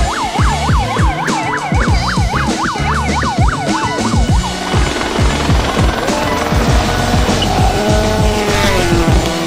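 Hyundai WRC rally cars roar past on a legendary Acropolis rally road, engines revving hard with rapid gear shifts and sweeping pitch changes, tires squealing and skidding loudly close by.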